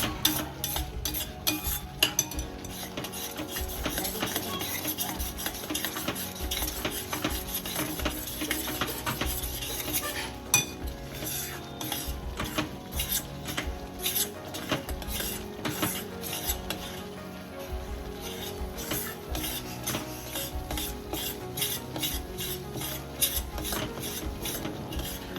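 Gram flour roasts in ghee in a pan for mohanthal, stirred continuously with a utensil scraping and clinking in a quick steady rhythm over a soft sizzle, close and alone.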